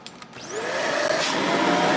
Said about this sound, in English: I'm gonna take the hose apart, and I'm gonna test the suction right here.